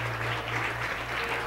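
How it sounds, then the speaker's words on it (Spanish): Steady, dense applause from a church congregation fills the room as a continuous wash of clapping, with a low electrical hum running underneath. "Dale un fuerte aplauso al Señor."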